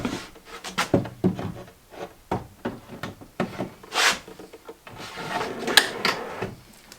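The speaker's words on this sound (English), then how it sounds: "So I'll slide this drawer back in just for visual purposes." A wooden drawer slides back into a custom kitchen cabinet inside a 144 Sprinter van, with a string of close rubbing scrapes and soft knocks of wood on wood, ending in a few sharper bumps.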